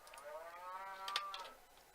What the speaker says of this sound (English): Except when they're lowing loudly like that.